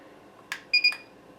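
A Thermaltake Dr.Power II power supply tester gives a short clicky blip followed by two quick, bright, high electronic beeps close up, with quiet hum between them.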